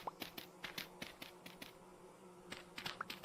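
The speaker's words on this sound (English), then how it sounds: "You can hear the bees above me." Bees buzzing overhead in the survival game Vintage Story, a faint insect drone with short repeated ticking bursts recurring through the clip, with no talk.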